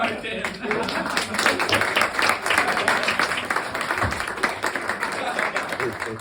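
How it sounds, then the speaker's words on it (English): A stand-up comedy open-mic crowd at No Stress Bar in Copenhagen claps in a dense, steady burst of applause with some crowd voices mixed in. "Please give a warm round of applause."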